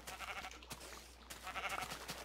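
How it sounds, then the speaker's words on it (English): Sheep in the Minecraft game with the Astocky Pack, several short bleats in quick succession over a low steady hum, fairly quiet. "Stupid sheep in the wrong spot."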